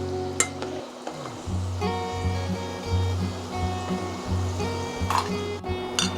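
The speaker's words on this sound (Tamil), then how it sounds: "இந்த பபுளெல்லாம் வந்து கொஞ்சம் அடங்கிடுச்சு, கொதிக்கிறது, எண்ணெய் கொதிக்கிறது" Cashew pakoda frying in bubbling hot oil, a steady soft sizzle and crackle running throughout with faint scattered pops, heard alone with no talking.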